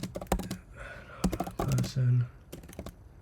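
Quick clusters of clicks come from someone typing on a computer keyboard. The keystrokes arrive in short bursts between stretches of a person speaking nearby.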